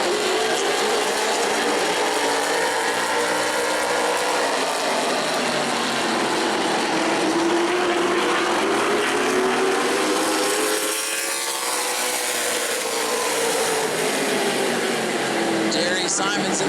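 Modified race cars at New Smyrna Speedway screaming past in a tight pack, a sustained loud engine roar with rising and falling pitch as the cars sweep by, continuous for the whole stretch without pause.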